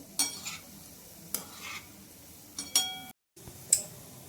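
Bread gulab jamun frying in oil over a low gas flame, a soft continuous sizzle broken by several sharp metallic clinks and stirring scrapes from a utensil against the pan, close by with no talking.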